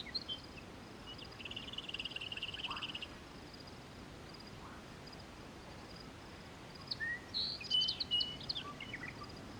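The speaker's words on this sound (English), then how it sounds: "if we just sit here and listen to these birds for a second" Birdsong in the DayZ survival game, an older legacy build: scattered chirps and short warbling calls over a steady ambient outdoor wash, a trilling phrase early and a busier cluster of calls near the end, no talking.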